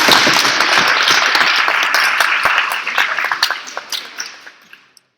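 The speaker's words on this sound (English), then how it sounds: "you can waive them to a massive round of applause" A big round of applause in a debating chamber, a loud, dense burst of many hands clapping that thins into scattered individual claps and fades out near the end.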